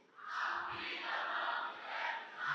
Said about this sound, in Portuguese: Eu quero um grito.